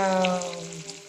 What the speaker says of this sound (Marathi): आता मी ह्याच्यातनं लसूण कांदा आणि उमताची डाळ आणि हिरवी मिरची हे टाकलेले हे चांगलं भाजून घेते